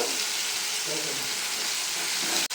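Tomatoes frying in a pan for tomato chutney give a steady, close broadband sizzle and hiss that runs throughout, ending in a brief click near the end.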